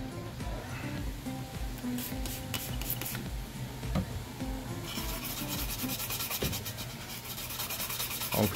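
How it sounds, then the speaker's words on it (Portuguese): Isopropyl alcohol is wiped and rubbed across the circuit board of a Samsung monitor after desoldering, a close steady scrubbing and rubbing with gritty friction that grows brighter and more rapid partway through and has no talk over it. "vamos passar um pouquinho de álcool isopropílico, né?"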